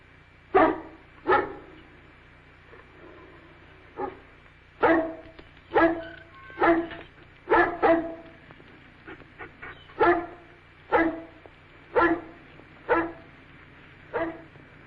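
A dog barks over and over, about a dozen sharp, loud barks at fairly regular intervals, close up and with nothing else heard.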